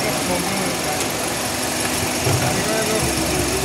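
A 2016 Kia Cerato at a used car market in Riyadh runs at a steady idle, a close, continuous engine hum and whir that holds at an even level for the whole stretch.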